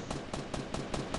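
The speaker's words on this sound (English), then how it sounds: "There's gunshots at you." Rapid bursts of Fortnite-style video-game gunfire, about six sharp shots in an even rhythm, close and loud.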